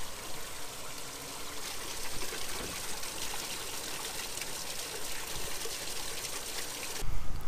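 Water from a filled drainage bin running down through a drain pipe, a continuous close rushing trickle and gurgle that holds steady throughout, swelling slightly near the end.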